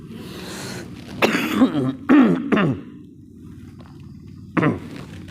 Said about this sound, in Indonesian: Masih ada sisa-sisa batuk Pak ya. Habis flu seminggu.